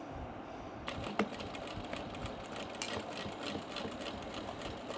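A sewing machine with a hump jumper stitching slowly over a thick, bulky seam on a crossbody bag, a steady close mechanical whir with a few sharper knocks as the needle pushes through.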